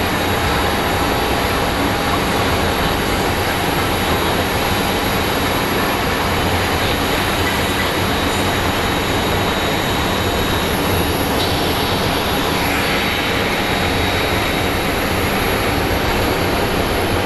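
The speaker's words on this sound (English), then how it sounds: "we're right next to the big aircraft that are making a lot of noise" Large aircraft engines roaring beside the apron at Sky Harbor International Airport in Phoenix, a loud unbroken wash of jet noise with a faint whine, steady for the whole stretch and with no voices.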